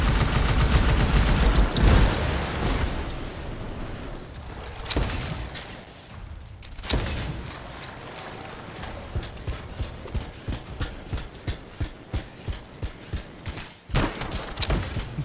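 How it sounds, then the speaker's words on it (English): Rapid gunfire from the video game Anthem, a run of evenly spaced sharp shots that follows busier layered combat noise and stays loud and close throughout. "He disappeared and I still shot him."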